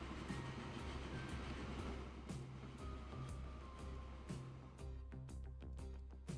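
A train rolls along in Transport Fever 2, a steady low rumble of wheels and engine with occasional clanks. It continues unbroken and moderately loud, with no talk over it.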